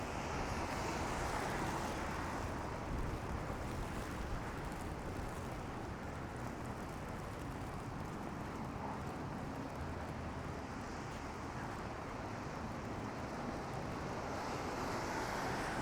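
Strong wind blows hard during a winter snowfall on a downtown Toronto street walk, a steady loud roar buffeting the microphone that continues without a break and with no voices.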